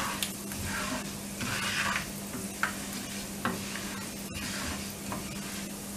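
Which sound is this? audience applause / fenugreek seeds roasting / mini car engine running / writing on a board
fenugreek seeds roasting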